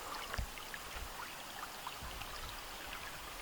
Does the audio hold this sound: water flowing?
yes